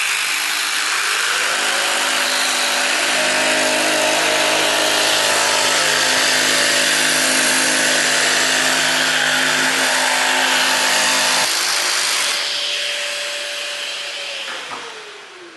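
A Festool CARVEX PS 420 pendulum jigsaw, set to pendulum stage 2 and speed 4, cuts steadily through hard material with a loud, continuous buzzing whine for about eleven seconds, then the motor winds down to silence.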